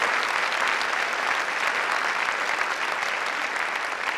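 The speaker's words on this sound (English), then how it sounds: "Let's give them a round of applause." Sustained applause from an audience at a Women's History Month celebration, a dense, steady wash of many hands clapping at even loudness throughout, with no talk over it.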